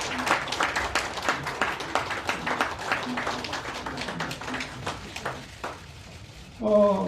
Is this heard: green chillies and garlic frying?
no